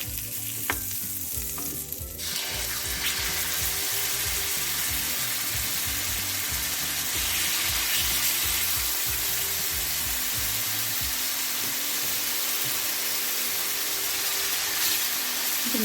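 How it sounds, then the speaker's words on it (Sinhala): Chicken pieces sizzle and fry in melted butter in a pan, a steady, loud crackling hiss running throughout, with occasional stirring scrapes and no talk. "මම දැන් මේ බටර් ටිකක් දාගත්තා. දැන් චිකන් ටික මම දාගන්න යන්නේ."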